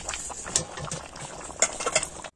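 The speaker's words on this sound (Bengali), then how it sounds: "মাংস ফুটে এসেছে" Chicken curry bubbling in a pot, a close, steady burble of boiling liquid with small pops and splutters running throughout, and nobody talking.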